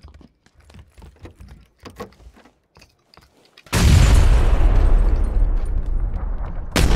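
A grenade detonates in the battle royale shooter PUBG, a sudden loud booming blast that follows quiet clicks and light tapping, with a long rumbling tail and a second burst at the very end.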